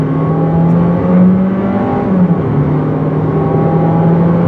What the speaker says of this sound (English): now the turbo's coming.